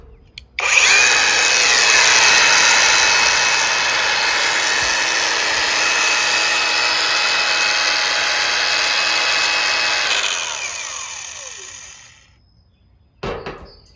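A VEVOR 20V cordless brushless 4-1/2-inch angle grinder rated at 9000 rpm runs steadily and loudly for about eleven seconds with a high whine, then spins down, followed by a brief click near the end.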